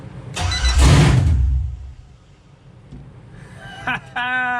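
A car engine starts from a push-button start, giving a short cranking burst and then a brief rev. Chimes and beeps follow, and a voice talks quietly at the start.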